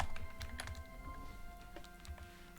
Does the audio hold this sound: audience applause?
no